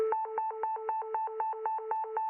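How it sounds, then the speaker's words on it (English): PulsePoint smartphone app emergency alert for CPR needed, heard as a rapid, regular series of about nine identical two-tone beeps, loud and close, with no voices. "it sounded like an Amber Alert, you know, how they come out"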